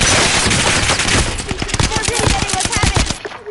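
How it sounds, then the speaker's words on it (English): Rapid automatic gunfire crackles in Call of Duty Warzone online play, loud bursts of overlapping shots piling into a dense fusillade that tapers off near the end. "There's too many gunshots on that one."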